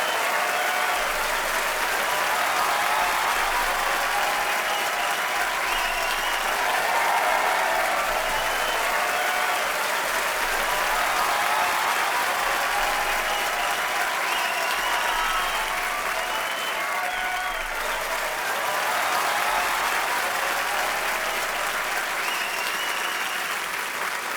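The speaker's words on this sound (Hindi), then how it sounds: "आप सबकी जोरदार तालियों के बीच इनवाइट करना चाहूंगा मिस्टर अली फजल और मोमल शेख" A studio audience on The Kapil Sharma Show claps loudly and steadily for more than twenty seconds as guests are welcomed, a dense and unbroken wash of applause.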